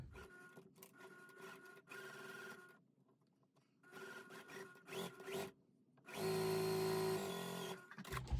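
A sewing machine stitches quilt squares along a drawn line, running in close, steady bursts separated by short pauses, with no talking.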